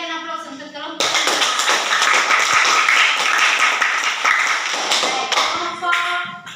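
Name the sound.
applause for group 5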